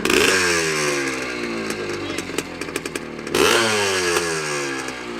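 A 1984 Honda CR80R dirt bike with a new motor, running rich, revving loudly nearby: a buzzy two-stroke whine climbs, sputters and pops irregularly, then surges back up in a second rev.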